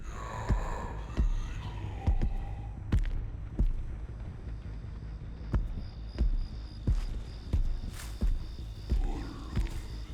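Low, throbbing killer terror-radius heartbeat from Dead by Daylight, pulsing in a steady, regular rhythm of deep thumps over a humming background, with brief breathy sounds near the start.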